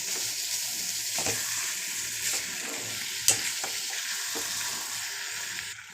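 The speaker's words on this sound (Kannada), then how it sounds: "ಇವಾಗ ಬೇಯಿಸ್ಕೊಂಡಿದ್ವಲ್ಲ ಬೇಳೆ ಮತ್ತು ಸೊಪ್ಪು ಹಾಕ್ಕೊಂಡು ಫ್ರೈ ಮಾಡ್ಕೊಳ್ಳೋಣ." Cooked lentils and greens being fried with already-fried onion for a village-style bassaru, a continuous close sizzle with scraping stirs and a few sharp clicks of a utensil against the pan, no talking.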